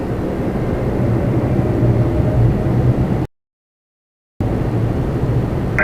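An airliner rolls for takeoff at Toronto Pearson airport at night, its jet engines a steady, loud roar that cuts out abruptly for about a second before resuming.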